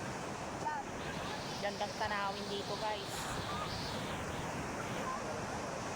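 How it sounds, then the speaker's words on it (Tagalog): Ocean surf washes steadily at a beach resort in Bagac, Bataan, a soft constant rush mixed with wind buffeting the microphone, while a person talks over it. "Pero yung sa alon ng dagat po, nakakatanggal po ng ating stress."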